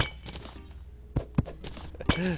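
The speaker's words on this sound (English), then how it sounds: "Breaking the pots is not so bad though." Clay pots in the video game Terraria smash in a few sharp, separate cracking hits spread across the moment, loud and close, with brief game tones between them.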